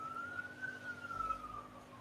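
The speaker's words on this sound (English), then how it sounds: "the police is speeding past my house with sirens on" A police car siren wails faintly in the distance as it speeds past a house, one long wavering tone that slowly falls in pitch.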